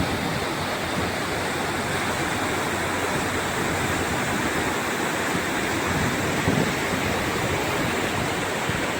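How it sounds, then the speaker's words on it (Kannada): Water of a full village lake in Chincholi, Kalaburagi district, spilling over its bund: a steady, loud, unbroken roar of rushing water with no talk. "ಕೆರೆ ಹೇಗೆ ತುಂಬಿ ಹರಿಯುತ್ತಿದೆ ನೋಡ್ರಿ"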